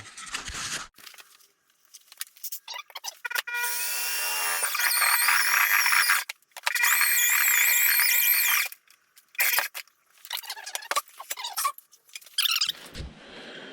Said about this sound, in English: So I'm gonna go ahead and get that drilled in before we put it on